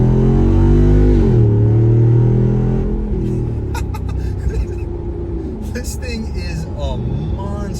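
A Jeep Wrangler Rubicon 392 accelerates on a multi-lane highway, its loud engine roar rising in pitch through a gear before settling into a steadier drone with road and wind noise, and a voice briefly exclaims.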